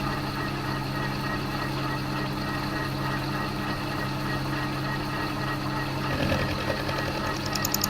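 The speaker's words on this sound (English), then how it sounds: "Bring the cutter in until it touches." A machine cutter on a lathe shortens a steering column shaft, a steady mechanical hum and whine running throughout, with a brief louder scrape and rising hiss near the end as the cutter touches the metal.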